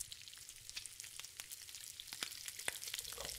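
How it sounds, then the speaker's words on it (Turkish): Food sizzles and fries steadily at low volume during cooking in The Long Dark, with faint crackles scattered over a soft hiss. "Hala yemek pişiriyoruz."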